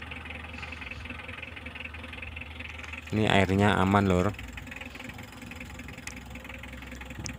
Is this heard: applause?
no